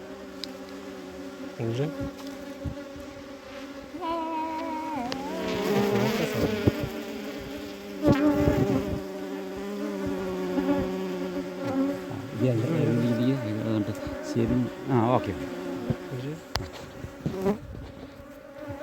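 Honeybees being gathered from soil into a hive box buzz continuously and densely close by, the drone swelling and shifting in pitch as the swarm moves, with a man's brief remarks over it.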